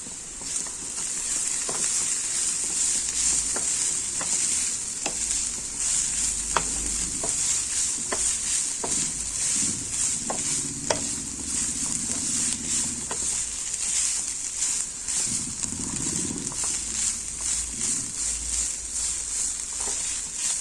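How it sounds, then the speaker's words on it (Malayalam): Cooked chicken tossed into a pan with masala powder for an Iftar snack filling, giving a steady close sizzle of frying with scraping stir strokes and occasional taps of a spoon, no voices. "വേവിച്ച് വെച്ച ചിക്കൻ ഇട്ട് കൊടുക്കാം"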